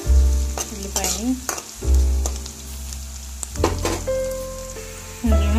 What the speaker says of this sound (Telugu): ఉల్లిపాయ కూడా వేసుకున్నాను. బాగా ఫ్రై చేసుకోవాలి ఉల్లిపాయని.